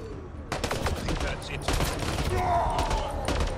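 Gunfire from a weapon in Mass Effect Andromeda comes as several loud, irregular single shots with crackling impacts and echo, mixed with game noise and someone talking over it.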